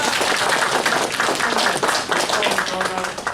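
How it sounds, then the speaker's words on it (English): Audience clapping at a furry convention fursuiting panel, a short, fairly loud burst of mixed applause with voices mingling underneath. "Let's have a round of applause for Sunny standing up."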